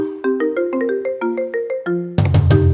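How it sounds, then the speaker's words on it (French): A phone ringtone plays a bright melodic sequence of about a dozen quick tuned notes, loud and close, before an abrupt burst of noisy sound takes over at the end. "Hey, le téléphone sonne, le téléphone sonne."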